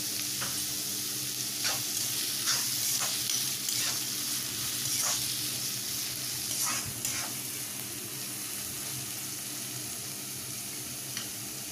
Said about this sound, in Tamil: வெங்காயம் கொஞ்சம் ஃப்ரை ஆகட்டும்.